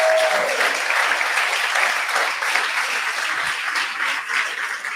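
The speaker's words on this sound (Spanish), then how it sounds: "Denle un aplauso al Señor por la salvación." A church congregation breaks into strong, continuous applause, thick and close, holding at a steady level throughout.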